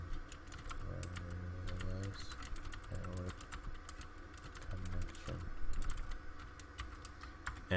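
Someone types a Windows command-prompt network command on a computer keyboard, a steady run of quick key clicks under a background hum with low tonal sounds and a voice now and then.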